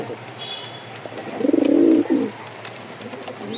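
Male pigeon kept for sale cooing once, a close, clear throbbing coo lasting about a second amid faint background noise.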